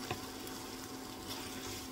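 Onions frying in a pan for stuffed apples with black pudding, a soft steady sizzle with faint stirring scrapes, fairly quiet and close, with no talking.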